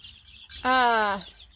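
Young chicks, almost two weeks old and some likely roosters, make a single loud, shrill cheep on a farm, with faint background sounds before it.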